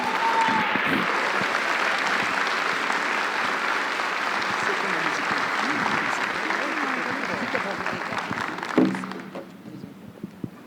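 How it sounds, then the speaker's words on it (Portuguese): Sustained crowd applause from an audience at a church gathering, continuous and fairly loud, tapering near the end as a voice begins speaking. "uma salva de palmas a Jesus."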